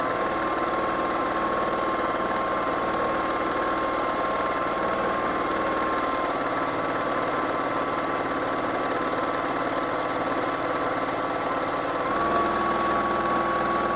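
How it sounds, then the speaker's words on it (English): A sewing machine runs steadily throughout while machine quilting floral fabric, a continuous close mechanical whir with a slight shift in pitch partway through and again near the end, no talking. "I'm trying to machine quilt while watching the camera shake versus the quilt"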